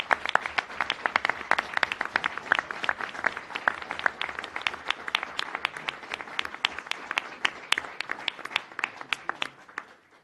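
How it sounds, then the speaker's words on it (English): Audience applause after a Casto and North Point question-and-answer session, a moderately sized crowd clapping in crisp, distinct claps that stay steady for about ten seconds before thinning out. "Let's give the Casto and North Point team a round of applause."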